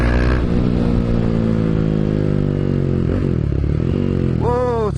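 A KTM Duke motorcycle engine drones loud and close as it accelerates, with the pitch holding and then climbing sharply in a quick rev near the end, under faint talk.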